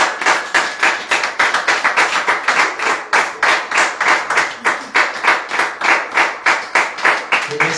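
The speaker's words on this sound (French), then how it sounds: "Nous applaudissons le roi des rois." A church congregation claps in a steady, rhythmic beat, loud and sustained, with no talking.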